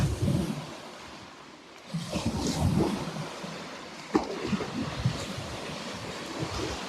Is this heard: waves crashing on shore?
yes